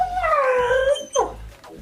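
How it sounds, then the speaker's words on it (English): A pet dog whines in a long, high, wavering cry that bends downward, then gives a shorter sharp yelp after a brief break, close and fairly loud with nothing else heard. "my dog is whining."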